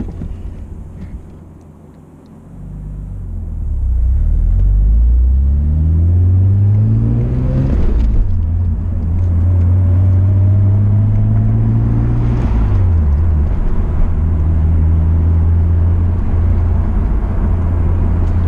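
A Mitsubishi Eclipse engine while driving, revving up through the gears in rising sweeps with a shift pause between, loud and droning from inside the cabin, no talking.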